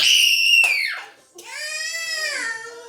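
A child screams in two loud, high-pitched, sustained bursts with a short break between them, close by and with no other sounds.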